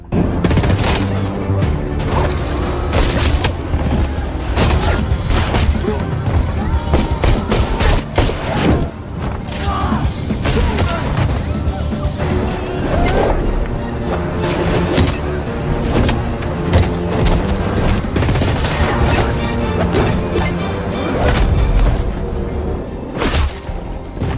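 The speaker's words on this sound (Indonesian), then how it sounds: "hingga terjadilah aksi tembak-tembakan" Rapid bursts of gunfire crackle loudly and repeatedly, dense and chaotic, with intermittent sharp impacts and mechanical clatter in a sustained film shootout.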